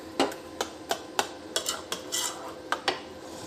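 Gram flour and yogurt being stirred into boiled water in a pot, a spoon clinking and scraping against the metal in irregular taps and strokes, close and moderately loud.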